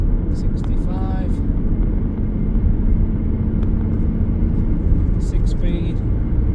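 2017 Skoda Superb 1.6 TDI diesel with a six-speed manual gearbox, cruising at motorway speed with a loud, steady cabin rumble of road and wind noise. Someone talks intermittently over it.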